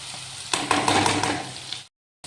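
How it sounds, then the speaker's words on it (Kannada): Mustard-seed tempering crackles and sizzles in hot oil with a few scraping stirs, then the sound cuts abruptly to silence. "ಈ ಒಗ್ಗರಣೆನ ನಾವಿಲ್ಲಿ ಒಂದು 4 ನಿಮಿಷ ಬೇಯಕ್ಕೆ ಬಿಡೋಣ"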